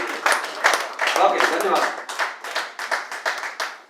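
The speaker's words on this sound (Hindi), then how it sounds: "जोरदार ताली हो जाए प्रदीप जी के लिए" An audience at a hotel gathering claps for a speaker, with a burst of fairly loud applause that thins into scattered claps, while someone briefly speaks over it.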